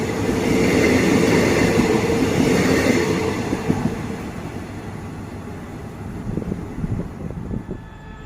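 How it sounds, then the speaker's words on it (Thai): A QSY diesel locomotive hauling a Thaksinarath passenger train in Thailand, with a loud rumbling roll of engine and wagons passing close by, then fading into softer wheel clatter. "ก็ดูแล้วก็เหมาะสมกับ ทักษินารัตนะครับหัวรถจักรรุ่นนี้"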